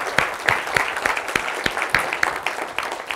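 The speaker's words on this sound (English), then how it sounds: "And then let's give them a small applause." Small audience at a programming talk gives a brief round of applause, a steady patter of hand claps from a modest crowd, fairly close and loud, lasting a few seconds.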